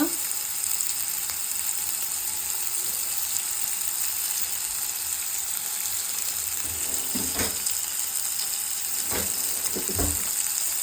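Mixed vegetables cooking briefly in oil in a pan for a Korean-style veg ramen bowl, a constant soft sizzle with a few light scraping stirs near the end, no talk.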